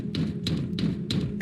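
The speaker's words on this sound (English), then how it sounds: "The banging then moved from the lockers to our classroom door." Heavy thuds bang on a classroom door in a scary story, landing in a loose, repeated rhythm of four or five hits about every third of a second, close and hollow with a dull low body.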